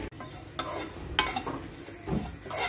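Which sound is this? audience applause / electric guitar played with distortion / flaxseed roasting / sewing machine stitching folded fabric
flaxseed roasting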